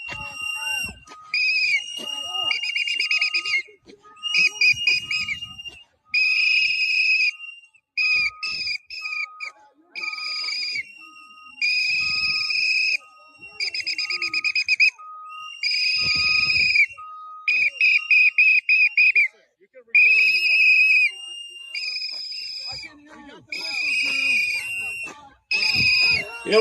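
Shrill whistles blow again and again in short, piercing bursts, some in rapid trills, while voices shout and talk underneath.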